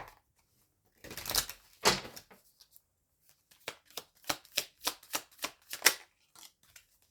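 A deck of tarot cards being handled and shuffled close by in a quiet room, with a couple of longer riffling bursts followed by a quick rhythmic series of about ten crisp slaps and flicks, and no talking.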